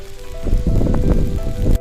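Rain falls as a sound effect, a dense, steady patter of drops that swells and holds at a moderate level. A faint sustained tone runs underneath, and the sound cuts off abruptly near the end.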